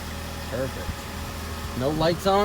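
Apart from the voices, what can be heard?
2001 Saturn SC2 engine idling on cold start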